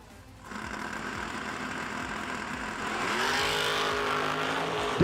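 A 1985 Camaro and a rival car launch hard off the line at a drag strip, engines roaring loud and close and climbing sharply in pitch as they accelerate away together.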